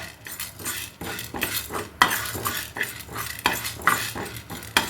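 Urad dal dry roasted in a small kadai with no oil, a spoon scraping and stirring against the metal in quick repeated clinks and scrapes, close and fairly loud throughout.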